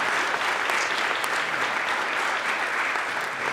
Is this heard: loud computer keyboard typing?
no